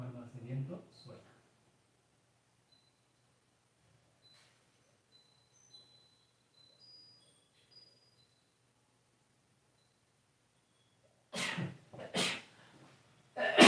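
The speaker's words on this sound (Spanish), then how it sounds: "me agarró el estornudo" A person sneezes outdoors in a quick burst of two or three sharp, close bursts after a long, near-silent stretch; brief talk comes before.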